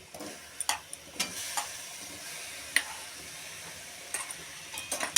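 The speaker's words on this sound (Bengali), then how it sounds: "এবার এতে মেশাতে থাকবো যতক্ষণ না এটা শুকনো হয়" A utensil stirs chopped papaya and food colouring into a homemade cake mixture, with soft continuous scraping broken by scattered light clicks and taps against the bowl, close and fairly quiet.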